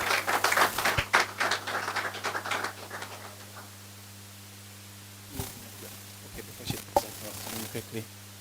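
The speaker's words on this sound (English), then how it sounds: "Let's please give them a round of applause, please." A graduation ceremony crowd applauds, close dense clapping that thins out after a few seconds, followed by scattered individual claps and a low steady hum.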